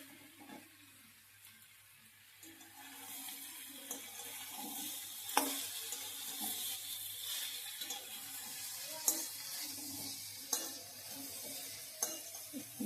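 Food being sautéed and stirred in a pan on a home stove, with a steady low sizzle and the occasional sharp click of a spoon against the pan.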